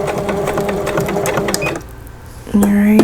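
A sewing machine stitches steadily at a slow pace while an eyeglass or pencil case is sewn, its rapid mechanical whir running close and loud, pausing briefly before the motor starts up again with a higher hum.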